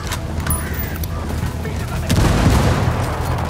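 Frag grenade blast and gunfire in the Ghost Recon Wildlands video game: sustained loud rumbling with scattered sharp shots, swelling heavier in the second half.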